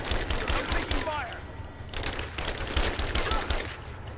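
Rapid bursts of enemy gunfire in the action video game Rise of the Tomb Raider, dense automatic-weapon rattle filling the whole stretch, loud and close with brief lulls between volleys.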